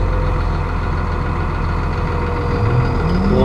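A Massey Ferguson Dyna-VT tractor drives forward, its engine giving a steady, loud, close low rumble throughout with no voices, and a faint rising whine near the end as it moves.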